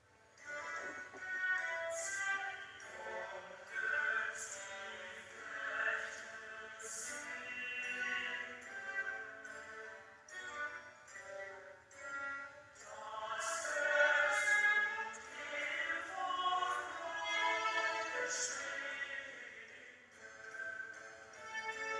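The opening A section of a Bach chorale movement in bar form plays continuously as steady, moderately soft harmonized music, with no talking.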